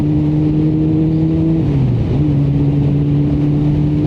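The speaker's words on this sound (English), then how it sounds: "Smash through those gears. Don't go too high at the rev range, but just get up to speed." A motorcycle engine drones loudly and steadily close by during a riding test, its pitch dipping briefly mid-way as it shifts gear, then settling back to a steady tone with heavy wind rush.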